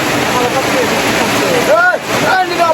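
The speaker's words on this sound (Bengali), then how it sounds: "মুষলধারে বৃষ্টি হচ্ছে।" Heavy downpour of rain at a market, a dense, steady roar of pouring water that fills the whole stretch, with a brief voice rising faintly above it near the end.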